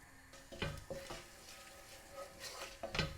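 Black and green cardamom pods with cumin seeds sizzle in a few tablespoons of hot oil for an egg biryani, a faint soft crackle under stirring scrapes and light clinks of a spoon against the pan.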